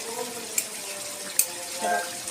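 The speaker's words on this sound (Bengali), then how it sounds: "পর্যায়ে আমি এখানে নর্মাল টেম্পারেচারে থাকা দুধ দিয়ে দিচ্ছি।" Room-temperature milk is poured into partly cooked chicken for biryani, giving a steady liquid splash and hiss that runs close and even, with a couple of brief clinks.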